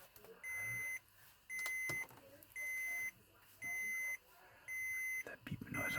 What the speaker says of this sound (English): that beeping noise, I don't know